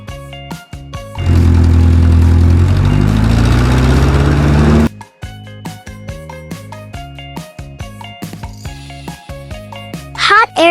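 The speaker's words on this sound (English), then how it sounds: "Jeep." A jeep engine starts up with a loud rumbling roar and rises in pitch for several seconds, with upbeat music playing before and after it.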